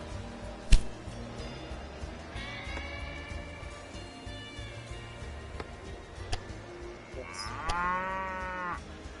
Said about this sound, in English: as you hear the cows mooing